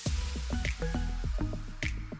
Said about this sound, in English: some of these donuts are dipped by hand into colored icing